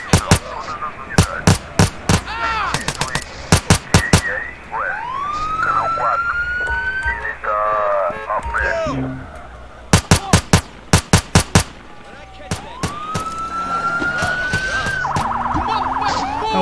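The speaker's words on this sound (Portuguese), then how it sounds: "Ambulância do SAMU." A SAMU ambulance siren in the GTA Brasil game mod wails in rising and falling sweeps, loud and near, broken by repeated rapid gunfire bursts and engine rumble.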